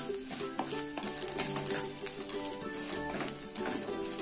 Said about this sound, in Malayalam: എല്ലാം ഒന്ന് നന്നായിട്ട് ഇളക്കി കൊടുക്കാം